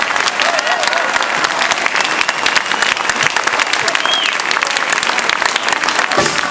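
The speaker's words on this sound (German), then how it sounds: "einen ganz besonderen Applaus nochmal für die Kapelle und für die Sängerinnen" Sustained, dense applause from a concert audience for a brass band (Kapelle) and female singers, steady and fairly loud throughout with crowd murmur mixed in.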